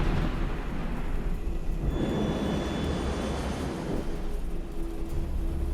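Heavy thunderstorm with torrential rain around an aircraft in flight, heard as a loud, continuous roar of rain and rumble that stays steady throughout, with no talking.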